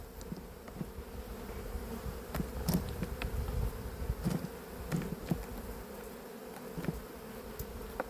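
Honey bees buzzing in a steady, close drone around an open hive during season-end work removing queen excluders, with occasional soft knocks and handling noises from the boxes.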